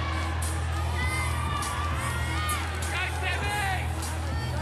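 Crowd at Kudos Arena during the 2018 CrossFit Games Pacific Regional women's event cheering and whooping in a steady, dense roar, with a commentator talking over it throughout.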